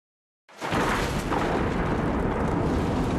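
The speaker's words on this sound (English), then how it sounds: "The explosion seen here is an example of one of the hazards line workers may face when re-energizing transformers that have an internal fault." A faulty distribution transformer exploding as it is re-energized, a sudden loud blast after half a second of silence that becomes a sustained roaring, crackling rush lasting to the end.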